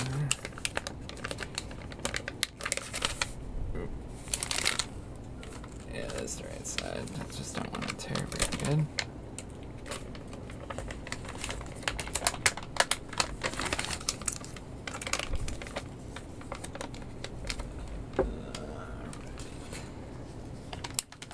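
Plastic MRE pouch of low-sodium cheese tortellini crinkles and stretches rather than tearing, giving a dense run of close, crisp crackles and clicks for about twenty seconds, with a voice now and then.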